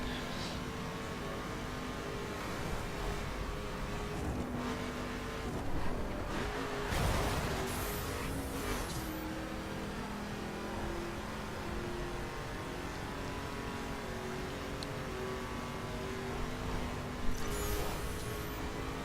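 A 2011 Ford Mustang GT engine drones steadily in a racing game, holding a sustained tone with a few swells and brief louder bursts while the car runs at speed.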